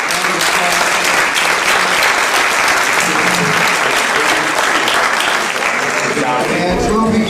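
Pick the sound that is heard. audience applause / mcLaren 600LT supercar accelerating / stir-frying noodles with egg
audience applause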